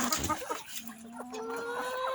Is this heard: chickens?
yes